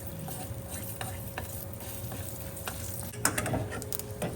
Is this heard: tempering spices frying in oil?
yes